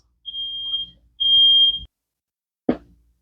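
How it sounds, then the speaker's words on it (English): A sensitive household smoke alarm sounds two sharp, steady high-pitched beeps, one short and one longer, followed by a couple of brief knocks, with no talking. "My little smoke alarm just went off because it's real sensitive."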